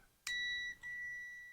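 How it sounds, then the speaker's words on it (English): A continuity tester checking a 3-way light switch gives a sharp electronic beep, a steady tone that breaks briefly and then resumes, close and clear with no voices. "this should beep"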